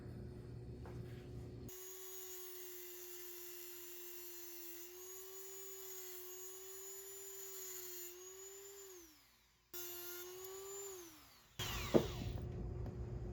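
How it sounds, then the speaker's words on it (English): A Dremel rotary tool cuts metal on the Golden 47 restoration, a steady high whine that sags under load, cuts out briefly, restarts, then ends in a sharp grinding burst, close and alone. "I'm going to carefully Dremel the metal here."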